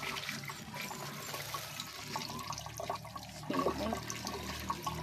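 Water running from a faucet at a school washing area, a continuous splashing trickle with soft background ambience and no speech.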